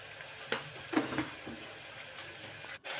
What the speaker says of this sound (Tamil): இப்போ அடுத்து தக்காளியும் போட்டு நல்லா ப்ரௌனிஷ் ஆகிற வரைக்கும் கிண்டிக்கலாம்